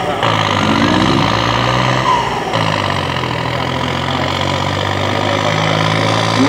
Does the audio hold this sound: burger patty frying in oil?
no